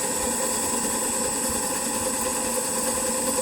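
A three-phase electric motor with worn bearings runs steadily at idle around 1,500 rpm with a constant whirring hum and faint mechanical rattle, unchanging throughout.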